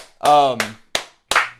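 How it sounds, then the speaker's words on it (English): A voice says a short filler word, then two sharp, close hand claps follow in quick succession. "I'm gonna clap it up"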